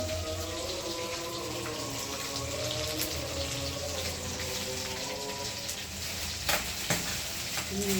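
Pieces of boal fish, including heads, sizzle steadily in hot oil in a pan, a continuous dense frying hiss with occasional louder crackles and spits, close by and with no talking.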